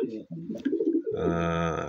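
A pigeon in a cage gives a low, drawn-out coo right after a brief burst of nearby speech, the call close and clear.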